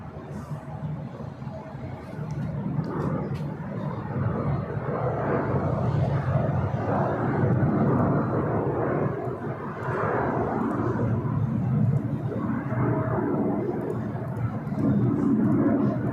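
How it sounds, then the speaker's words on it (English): A China Airlines Boeing 777-300ER jet at LAX roars steadily from a distance, its broad engine rumble swelling and holding for the whole stretch. "China Airlines Flight 5 heading back to Taipei."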